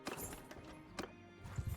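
A saddle horse's hooves clip-clop in Mount & Blade II: Bannerlord, a few uneven thuds over steady in-game ambience.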